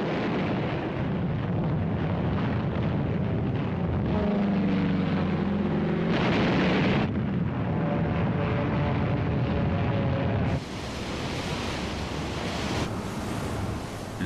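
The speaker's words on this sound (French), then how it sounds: "Pendant 3 jours, vague après vague, les chasseurs bombardiers vont labourer les positions ennemies." Low, continuous rumbling roar in wartime footage of fighter-bombers striking enemy positions on an island in 1945, dense and heavy with shifting swells, then a thinner, wind-like noise toward the end; no voices.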